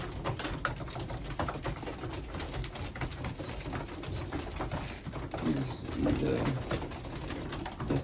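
Pigeons coo softly and repeatedly in a loft, the low throaty calls overlapping, with faint wing flutters and background chatter.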